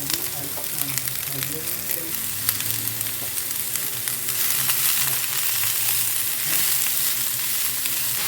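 About three chopped onions go into hot oil with curry leaves for a Kerala-style squid roast, a dense continuous sizzle up close with the clatter of stirring and a low hum beneath.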